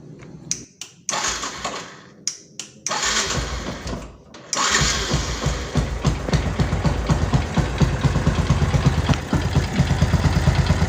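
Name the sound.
Yamaha Byson motorcycle engine idling after rebuild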